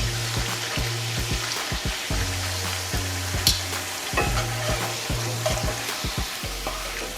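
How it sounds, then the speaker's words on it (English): A corn tortilla with melting cheese frying in a hot pan for a double-decker quesadilla, a close, continuous crackling sizzle over a low steady hum with scattered scraping knocks. "Let it fry a little bit. See, and that way your tortilla's hot, the pan's hot, everything's starting to melt."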